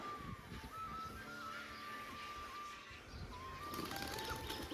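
Pigeons coo in soft, low, rolling calls against a steady outdoor background, with a thin whistle-like tone running through.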